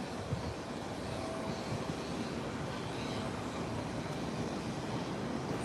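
A British Airways Boeing 777 climbing away after takeoff, a steady broad jet engine roar that holds fairly constant and somewhat distant throughout, with no voices.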